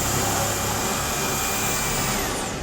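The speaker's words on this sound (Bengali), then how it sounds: "দেখতেই পারতেছেন অসাধারণ স্ক্রু মারতেছে।" A power tool drives screws with a steady, loud whirring drone that runs continuously throughout, with no voices.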